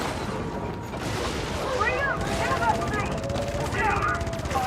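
Rapid gunfire from a video game battle around a launch pad with a tank nearby, a steady stream of shots under background game noise and beeping tones, with a voice talking over it.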